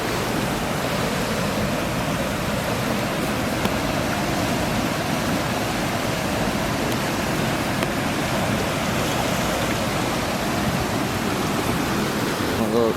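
Water rushing out of the opened gates of Neyyar Dam, a steady broadband roar of flowing water that stays constant throughout, close and loud.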